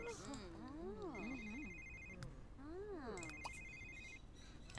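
A telephone rings in The Sims 3 with a synthetic two-tone trill in repeated bursts, heard over game music and a melodic voice.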